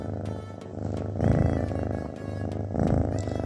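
A steady, rumbling cat purr, close and continuous, swelling slightly louder in rhythmic waves with each breath.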